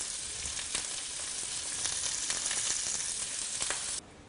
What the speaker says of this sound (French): Nous allons cuire nos courgettes al dente.